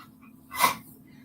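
A dog sneezes once, a short sharp burst of air standing out close against a quiet room with a faint steady hum.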